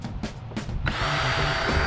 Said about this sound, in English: drill the final two holes